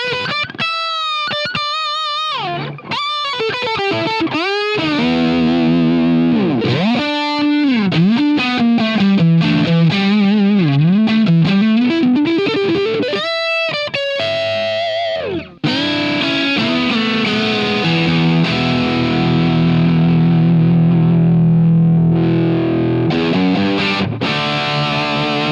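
Loud, saturated electric guitar through a Soldano SP77 preamp with the gain turned higher, playing quick distorted lead lines and bends, then heavy sustained chords that ring thickly near the end.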